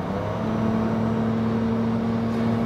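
Nissan X-Trail e-Power hybrid at full throttle from about 80 km/h in sport mode, heard from inside the cabin as a steady, even motor whir over constant road rumble, no voices.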